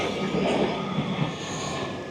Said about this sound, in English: Very busy train line along here.